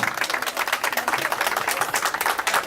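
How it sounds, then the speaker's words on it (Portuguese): A crowd at a rally outside Santa Catarina's electoral court breaks into steady applause, a dense wash of many hands clapping at moderate distance with no voices over it. "E aí eu peço uma salva de palmas para o TRE de Santa Catarina."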